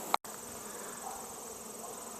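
Honeybees buzz in an open beehive during a fall hive beetle treatment, a steady close swarm drone that runs throughout after a brief sharp click near the start.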